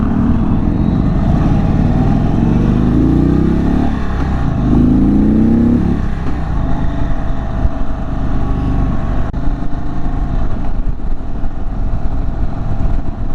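2023 Indian Super Chief Limited motorcycle with a Thunderstroke 116 engine, ridden on the road with a loud, steady engine rumble, rising revs through gear changes, and wind noise, with no talking.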